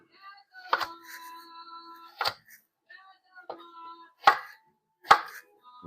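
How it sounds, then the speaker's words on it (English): A knife chops carrots on a cutting board into half-inch chunks, making four or five sharp, separate thunks spaced a second or so apart, while a person talks quietly between the cuts. "go ahead and start our carrots and cut them in half"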